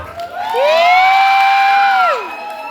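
A crowd at a Star Dance show in Phuket gives one loud, sustained cheer that rises, holds for about a second and a half, then falls away, with no distinct clapping standing out.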